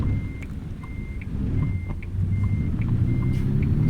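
A truck in American Truck Simulator backs onto a trailer with a run of regular reversing beeps, about one every half second, over a loud steady engine rumble that rises slightly near the end.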